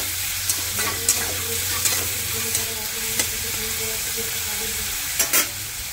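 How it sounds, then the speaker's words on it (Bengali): Onion and green chilli fry in oil for homemade chowmein, a steady sizzle under regular stirring, with light clicks of a spatula against the pan every second or so. "পেঁয়াজটা 2 মিনিট ধরে ভেজে নেব"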